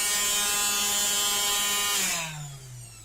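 A repaired electric sander runs with a steady high-pitched motor whine and buzzing, then winds down in pitch near the end as it spins to a stop, close and alone without talk.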